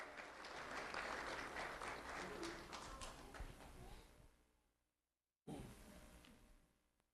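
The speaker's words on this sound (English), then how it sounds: "Let's have a round of applause for Selena." An audience applauding a student at an award event, a dense wash of clapping that fades out after about five seconds, then resumes abruptly.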